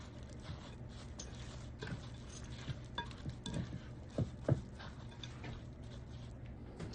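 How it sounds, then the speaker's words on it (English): Spoon or whisk stirring salad dressing for a broccoli salad in a bowl, with a steady ticking scrape and a few sharper clinks toward the end, fairly quiet and with no talking. "let's go ahead and get this stirred"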